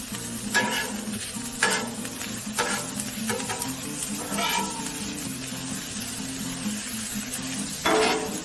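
Onions and green chilies cook on a Blackstone griddle, giving a soft continuous sizzle. Spatula scrapes and stirring knocks cut in at intervals of about a second, close by but fairly quiet.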